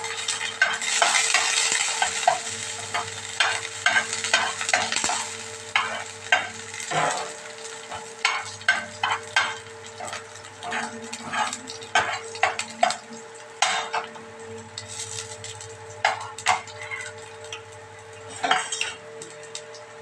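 Dal simmering with curry leaves in a home kitchen pot while a metal spoon stirs and scrapes, giving bursts of clinks and taps over a soft sizzle, fairly close and with no talking.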